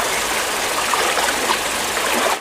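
A forest river flows steadily, the rushing, trickling water forming a dense, even wash of sound that stays loud and constant, with no voices.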